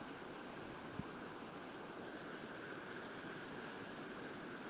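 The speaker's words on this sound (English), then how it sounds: "We have a waterfall further upstream, and then the stream runs around." A stream flows on from a waterfall upstream at Pipestone National Monument, making a faint, even rushing wash of water that holds steady throughout, with one brief soft knock early on.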